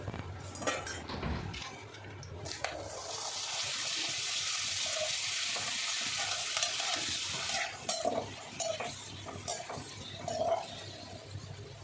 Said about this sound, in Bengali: কড়াইয়ের তেলটাও গরম হয়ে গেছে পাঁপড়টা আগে ভেজে নেব